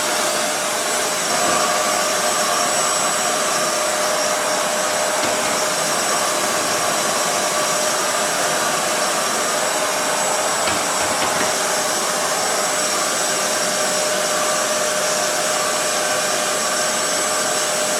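A vacuum cleaner runs continuously inside an Aga cooker oven, a steady loud whooshing drone with a thin whine that never lets up.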